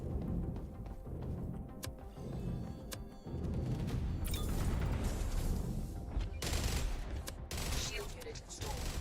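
Enemy gunfire strikes a spaceship in Void Crew, with a dense, continuous clatter of impacts and rapid shots over a rumbling engine drone, and voices briefly speaking in between.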